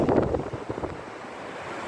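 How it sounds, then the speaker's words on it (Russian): Wind buffets the microphone while raging sea waves surge onto a sandy shore, a rough, fairly soft rush that swells at first and then settles into a steady hiss. "Вот сейчас идем к этому прямо бушующим волнам."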